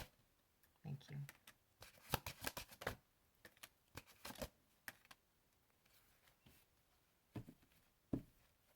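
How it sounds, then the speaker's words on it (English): A tarot card deck is shuffled in quick bursts of riffling and flicking, with pauses between the flurries and a faint voice in the background. "what else did Aquarius need to hear from this deck?"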